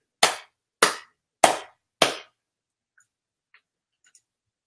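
Four sharp, evenly spaced hand claps ring out loud and close, followed by near silence with only faint small ticks.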